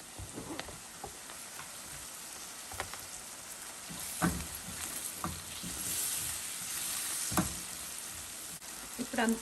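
Onions and tomatoes sizzle and crackle in a hot pan, a soft steady fry punctuated by occasional scrapes and clicks of stirring.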